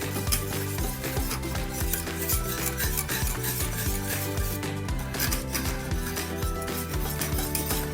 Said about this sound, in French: on remue jusqu'à ce que ça épaississe